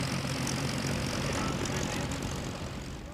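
An RAF Chipmunk propeller primary trainer aircraft drones steadily, a loud continuous engine and propeller roar that fades slightly toward the end.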